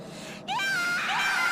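A woman in the Japanese horror film Teke Teke (2009) gives a rising, sustained scream that turns into wailing cries, loud and close over a hissing background.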